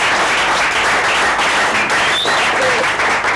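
A church congregation at a Christian community birthday celebration applauds and cheers in a dense, sustained wave of clapping that fills the whole stretch at steady loudness.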